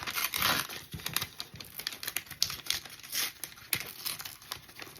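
Paper torn by hand around the edge of a wooden star, with close, irregular ripping and crinkling bursts that come in quick succession and no talking.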